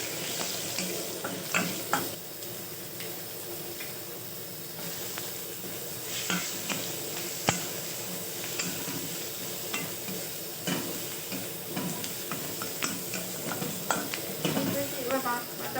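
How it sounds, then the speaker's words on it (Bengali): Bay leaves and whole cumin seeds frying in hot oil, a steady loud sizzle and hiss throughout with occasional stirring clatter in the pan, for a Bengali potol chingri dish. "দুটো তেজপাতার দেবো তেলের মধ্যে। দেবো একটু গোটা জিরে"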